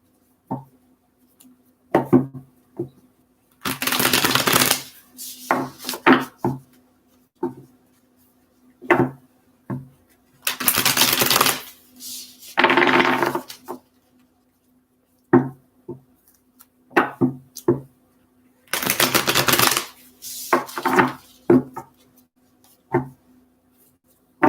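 Tarot cards are shuffled in bursts of crisp riffling and papery slaps, separated by short taps and pauses, close and clear with no talking.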